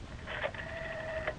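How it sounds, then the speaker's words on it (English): A 1970s Los Angeles telephone line dials a number, giving a short sequence of tones: brief blips followed by a sustained steady tone lasting about a second, fairly clear over low line noise. "Now, you just dial this special number"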